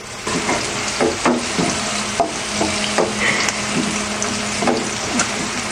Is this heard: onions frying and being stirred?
yes